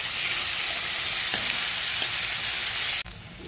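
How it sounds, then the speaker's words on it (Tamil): Cut onions hiss and crackle in hot groundnut oil, a loud, dense, steady sizzle close by that cuts off sharply near the end, leaving a quieter sizzle. "நம்ம கட் பண்ணி வச்சுருக்க ஆனியனை வந்து ஆட் பண்ணி நல்லா வதக்கலாம்."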